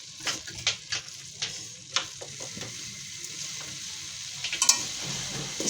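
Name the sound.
chicken roll filling frying in pan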